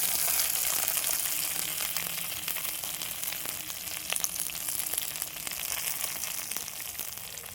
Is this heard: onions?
yes